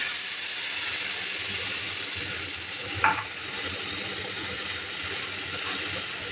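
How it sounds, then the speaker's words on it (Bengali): Chili-mustard paste hits very hot mustard oil in a pan for a Bengali katla fish curry, giving a steady, close sizzle and frying hiss throughout, with one brief louder crackle near the middle. "এখন এটা আমি গরম তেলের মধ্যে দিয়ে দিলাম। তেল পুরা গরম"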